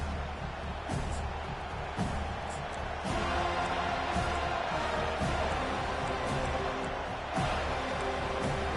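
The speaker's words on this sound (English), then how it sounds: "It's early, but this crowd is fired up. Listen to this noise here." Stadium crowd noise in a college football video game, SMU against FSU: a dense, continuous roar of cheering fans with sharper swells and thumps throughout, loud and sustained.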